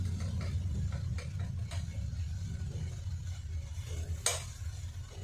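Tomato paste frying and being stirred in a hot pan, a steady low sizzle with soft scraping strokes throughout and one brief sharper clink near the end.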